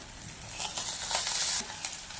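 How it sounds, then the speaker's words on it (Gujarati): Green peas tipped into hot oil in a pan, giving a close, steady crackling sizzle with small pops and spits that swells briefly, then settles to a softer fry. "હવે પહેલાં હું લીલા દાણા નાખી દઈશ."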